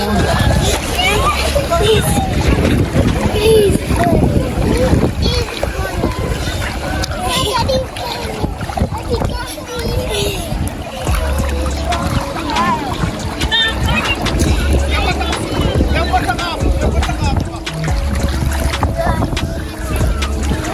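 Water splashes and churns around as people wade through a cold river near Alligator Pond Beach, with gusts of wind buffeting the microphone and voices talking over the noise.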